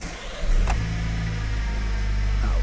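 A Vauxhall Opel Astra K petrol engine turns over with a quick crank and catches within a second, then settles into a steady, low idle just over 1,000 rpm, heard close up from inside the car.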